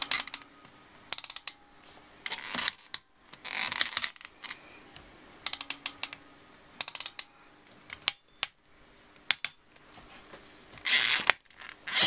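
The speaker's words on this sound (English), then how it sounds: "It's got a nice ratchet joint there." A Hot Toys Avengers Hulk 1/4 scale figure with ratchet joints gives bursts of sharp plastic clicking as its limbs are moved, with quiet pauses between the runs of clicks.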